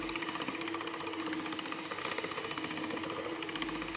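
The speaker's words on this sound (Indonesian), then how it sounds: "Kita mixer ya teman-teman, dari kecepatan rendah," An electric mixer beats brownie batter with egg and emulsifier, a steady loud whirring drone with rapid rhythmic pulsing, running continuously without talk.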